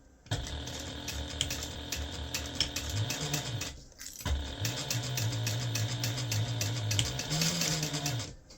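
A sewing machine runs in two long continuous bursts with a short pause between them, stitching and backstitching the seam of a medium-size fabric gift bag. The motor hum and rapid needle clatter are close and steady, and no one speaks.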